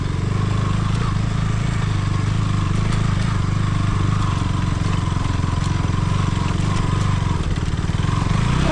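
Motorcycle engine on a ride near Suryachaur, Nuwakot, Nepal, a steady, loud, close-up drone that holds without a break from start to finish.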